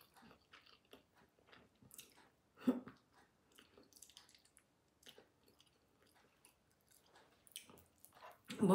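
Close, wet chewing of sticky rice eaten with fermented fish, in soft irregular bites and squishes, with a louder crunchy bite near the middle and another at the end; no one speaks.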